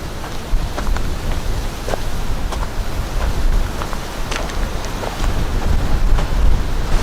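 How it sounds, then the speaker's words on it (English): A strong wind gust buffets the microphone on a park trail among hemlock trees, a steady, loud rushing roar that swells toward the end without pause. "with winds approaching 40 miles an hour at times, like that gust right now"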